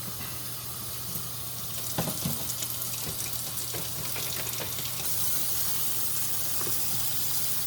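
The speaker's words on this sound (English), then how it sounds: "The not very exciting part of emptying a clean water tank" Clean water poured out of the tank of a Hoover SmartWash carpet cleaner, a steady splashing trickle running for several seconds at close range with no talk.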